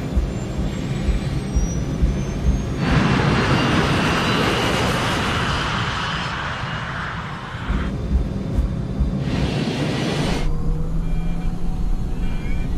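Airliner jet engines spool up and roar during a takeoff roll down a 2,400-metre runway at Linate Airport, a sustained loud rumble and whine with broad noise surging in sections, alongside a thin high-pitched tone.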